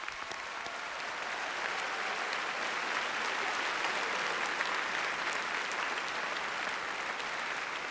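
An audience at a high school graduation ceremony claps in sustained, even applause that fills the whole stretch, with no voices over it.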